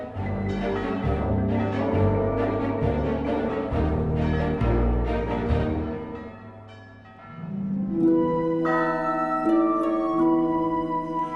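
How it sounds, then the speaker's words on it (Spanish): Church bells ring continuously in overlapping, resonant peals, loud and full, with a brief lull before a brighter bell joins near the end. "Europa ya está acostumbrada al sagrado ruido de las campanas"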